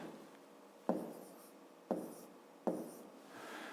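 Pen strokes write numbers in a notebook during a fifth-grade maths exercise, three quick close scratches over a faint quiet background.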